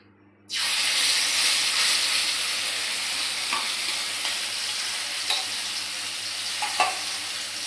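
Ash gourd leaf paste dropped into hot oil bursts into a loud, steady sizzle that starts abruptly and holds evenly for several seconds, with occasional faint pops and no talking.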